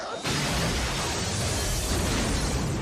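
Loud explosion from the animated film Batman: Mask of the Phantasm, a sudden blast followed by a sustained roaring rumble of fire and debris that fills the clip without letting up.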